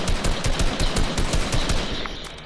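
Rapid automatic gunfire from a video game, a loud sustained burst of evenly spaced shots that keeps going for a couple of seconds and tails off slightly at the end, with no talking over it.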